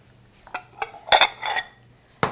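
A bowl is taken from a kitchen stack and set out after asparagus is cut, with a handful of light ceramic clinks and knocks at uneven intervals, the last one sharp and close.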